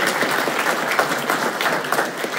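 Audience applause at a talk, a dense burst of steady clapping from a crowd lasting a couple of seconds.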